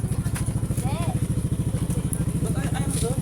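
Motorcycle engine idling close by near a beachfront, a loud rapid even putter of firing pulses, with people chatting over it.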